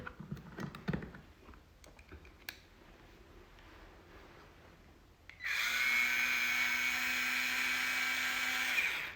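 A cheap battery-powered electric screwdriver whirs steadily at close range for several seconds, a constant high-pitched motor whine that starts abruptly after scattered light handling clicks.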